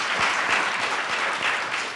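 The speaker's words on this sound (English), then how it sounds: "So another round of applause for Kellie." Audience applause at a venture incubator demo day, a steady wash of many hands clapping together, moderately loud and sustained throughout without pause.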